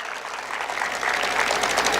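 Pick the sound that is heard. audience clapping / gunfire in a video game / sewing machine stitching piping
audience clapping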